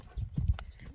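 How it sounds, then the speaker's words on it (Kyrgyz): A horse at an outdoor horse market gives a short burst of hoof clip-clops, close by and fairly loud, over a low background murmur. "Жақшы ат екен."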